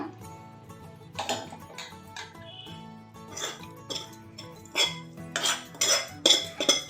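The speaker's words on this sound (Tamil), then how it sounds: "நல்லா கலந்து விட்டுக்கோங்க" Cardamom and coconut stirred in a metal pan for sweet kozhukattai filling, heard as repeated clinks and scrapes of a spoon against cookware, with a few louder clatters near the end and no talk.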